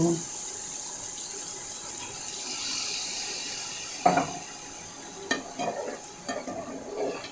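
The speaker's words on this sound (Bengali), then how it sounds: "আমি এখানে এখন পানি অ্যাড করব।" Water pours into a pan of frying spiced curry base for egg curry, a hissing sizzle and trickling water giving way to a few utensil clinks and stirring taps, up close in a home kitchen.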